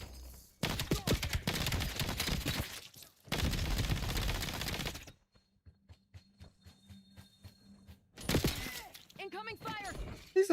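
Bursts of gunfire from the video game Black Ops 7, with two long dense volleys of rapid shots, a quieter stretch of sparse clicks and thumps, then another loud burst near the end.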